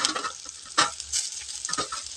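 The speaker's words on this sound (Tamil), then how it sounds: "இப்போ பூண்டும் வரமிளகாயும் நல்லா சவக்குங்க." Garlic and dried red chilies frying in hot oil, with a steady sizzle broken by a few louder bursts as a spoon stirs the pan.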